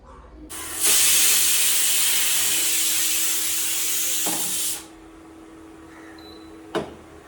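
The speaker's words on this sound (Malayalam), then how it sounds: "കുക്കറിൽ വെച്ചിട്ട് കുറച്ച് വിസിൽ വരട്ടെ." A pressure cooker vents steam in a loud, steady hiss that lasts about four seconds and then cuts off sharply. A faint tone sits underneath the hiss, and a single short knock follows in the quieter stretch.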